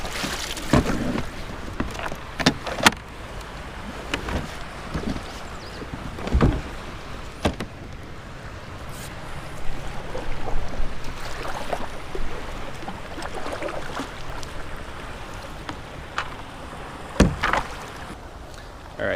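A kayak ferrying across open surf water, with repeated paddle strokes and splashes at irregular intervals over a steady wash of moving water, close by.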